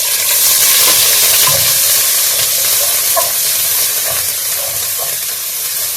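Garlic and ginger frying in a pan for chicken kofta curry, a loud steady sizzle and hiss that continues throughout, with faint stirring scrapes and no talking.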